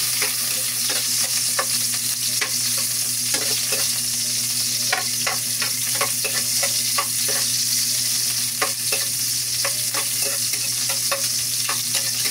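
Onions sizzling steadily in hot oil in a pan, with repeated scraping strokes of a spoon stirring through them, close and continuous with no voices.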